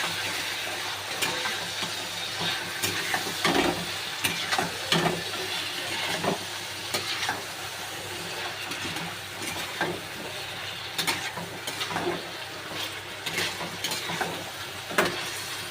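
Chicken frying in a pan with a ginger, garlic, onion, cashew and green chili paste while being stirred, a steady close sizzle broken by sharp scraping clicks of the spoon against the pan, and nobody talking.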